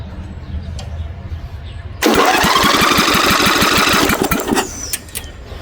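After a faint background hum, a small lawn mower engine with its spark plug removed cranks loudly for about two seconds with a rapid chugging rhythm, then winds down without catching.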